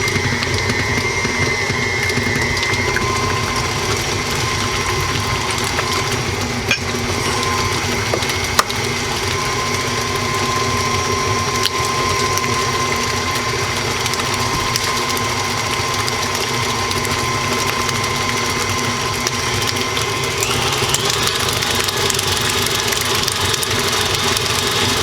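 An electric mixer beats cream cheese and eggs for apple cream cheese tarts, a steady motorised whir that runs unbroken for about twenty-five seconds with faint rattles and no speech.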